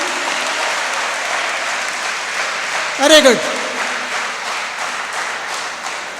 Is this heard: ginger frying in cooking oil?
no